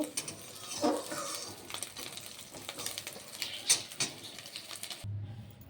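Fried shrimp lifted out of a hot wok of oil, soft sizzling with light scraping and clinks of a utensil against the pan, close and fairly quiet.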